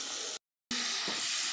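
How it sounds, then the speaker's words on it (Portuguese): Tilapia fillets frying in a pan over medium heat give a steady, close hissing sizzle that cuts out briefly, then resumes at the same level, with no voices. "eu não estou fritando no fogo alto, tá? Eu estou fritando meio termo, nem alto, nem no baixo."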